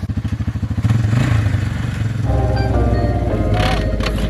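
A Honda Fourtrax ATV engine revs hard during a wheelie, a loud, close, rough mechanical drone with pulsing throttle changes and clattering over several seconds.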